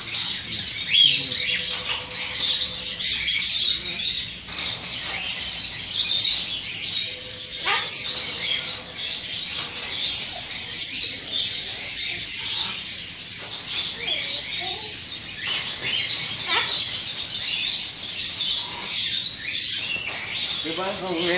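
Birds squawk and chirp repeatedly through a continuous outdoor scene, with sharp calls rising over a steady buzz of background noise and some faint talk.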